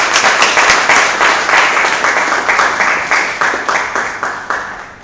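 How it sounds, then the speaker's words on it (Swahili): An audience at a masterclass bursts into loud, rhythmic applause, with many hands clapping close by in steady, pulsing waves that slowly fade toward the end. "kwa upande wangu mimi kwanza tupige makofi makubwa"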